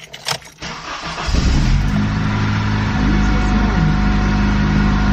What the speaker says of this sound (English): while the car warms up a little bit